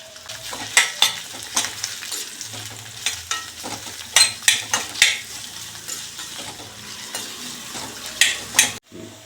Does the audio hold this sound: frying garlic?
yes